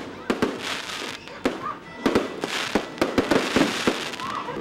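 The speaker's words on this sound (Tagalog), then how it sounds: "colorful nga mga fireworks display ang nasaksihan sa mga general sa pagsugat sa bagong tuig" New Year fireworks crack and pop in rapid irregular bursts, sharp loud reports with crackling in between, under a broadcast voice talking.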